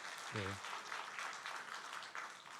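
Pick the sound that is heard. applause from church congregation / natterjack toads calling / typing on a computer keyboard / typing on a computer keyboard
applause from church congregation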